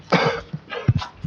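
A man at a township council meeting coughs several times in short, harsh bursts, close to the microphone, with a throat-clearing rasp between them and no speech.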